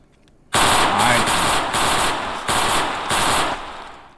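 Rapid automatic gunfire rattles in several loud bursts separated by short gaps in the Roblox game Harlem Heights, a New York City-themed shooter.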